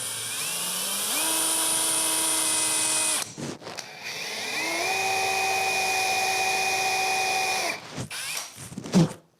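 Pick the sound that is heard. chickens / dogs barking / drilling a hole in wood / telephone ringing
drilling a hole in wood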